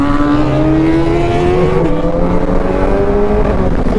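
Kawasaki ZX10R and BMW S1000RR superbikes race along a highway, engines roaring loud and steady with rising and shifting pitch as they accelerate through gears.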